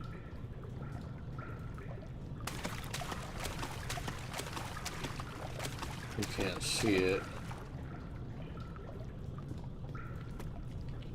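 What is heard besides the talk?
flowing water from video game Amnesia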